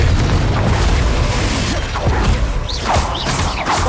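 A Confringo fire spell explodes in the Hogwarts Legacy video game, giving a loud, booming blast with a rumbling, crackling tail and a few whooshing bursts, dense and sustained throughout without speech.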